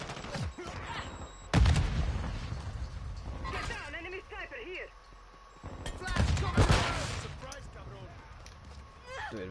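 Mortar blasts and rapid gunfire from Call of Duty MWII gameplay, with heavy booming impacts around 1.5 and 6.5 seconds amid continuous combat noise and a person talking over it.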